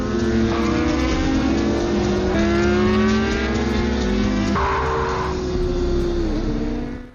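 Honda superbikes racing on a track, a loud continuous high-revving engine whine with shifting pitch as the machines roar past close by, the sound holding steady before cutting off at the end.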